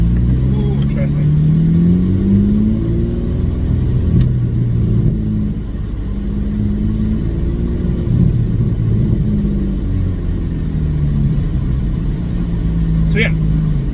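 A Porsche Cayman S with a straight-pipe exhaust drones while being driven, a loud continuous low engine boom that rises and falls with throttle inside the cabin, with people talking over it.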